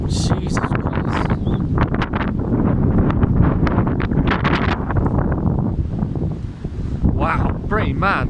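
Very strong winds batter the microphone in heavy roaring gusts, surging and easing over several seconds and loud and close throughout, with a voice exclaiming underneath.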